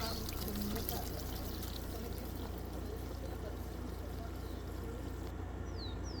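Steady broadband rush of a waterfall at La Paz Waterfall Gardens in Costa Rica, continuous and fairly close, with faint bird calls above the roar.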